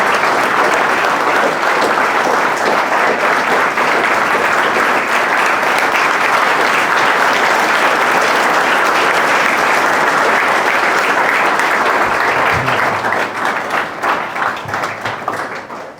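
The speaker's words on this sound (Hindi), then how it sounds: "तो जोरदार तालियों से हम उनका स्वागत करेंगे।" An audience at an ashram gathering welcomes a guest with loud, sustained applause, a thick continuous roar of many hands that holds steady and begins to thin toward the end.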